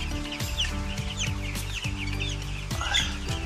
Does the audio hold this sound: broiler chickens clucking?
yes